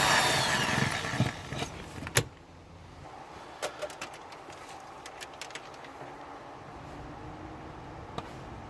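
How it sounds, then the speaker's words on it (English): A power drill bores a hole through a car's firewall while a boost gauge is being installed. There is a rough burst of drilling for about two seconds, followed by scattered clicks and knocks against a quiet background. "before you go drilling any holes through your firewall or anything like that, double check, triple check"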